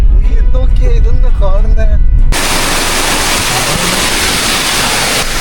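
Waterfall roaring as a broad, steady rush of falling water, loud and continuous after a brief stretch of nearby talk at the start.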